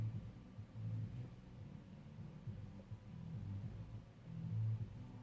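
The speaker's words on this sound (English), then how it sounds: "That's from a car." A car passing outside, heard as a low rumbling engine drone that swells and fades over several seconds, fairly faint and steady with a louder surge near the end, with no talking.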